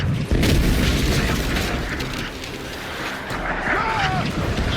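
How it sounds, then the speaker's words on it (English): Heavy booming mortar fire and explosions roar continuously in a naval battle in Assassin's Creed Black Flag, with loud rumbling blasts, dense background din and faint game voices underneath. "Heads up! Mortars! Look sharp!"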